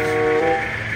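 A train in Indonesia pulls out, giving a loud, steady engine drone with a sustained tonal hum that fills the whole second, with no voices.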